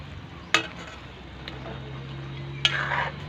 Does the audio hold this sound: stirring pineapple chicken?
yes